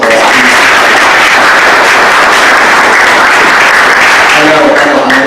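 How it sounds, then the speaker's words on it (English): An audience at a state party forum applauds two candidates, a very loud, dense and unbroken roar of clapping, with voices rising faintly beneath it near the end. "Can we give them another round of applause, please?"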